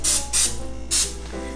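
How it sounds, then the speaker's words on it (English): Non-stick cooking spray hissing from an aerosol can onto a Mickey waffle maker in three short, loud bursts, the last slightly longer, over a low steady hum. "I just have some non-stick cooking spray right here"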